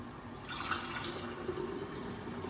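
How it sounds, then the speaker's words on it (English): Dandelion tea being poured back into glass jars in a kitchen: a soft, steady trickle of liquid, close and moderately quiet, with no voices. "we're gonna start pouring it back into the jars so we can just see how much we got"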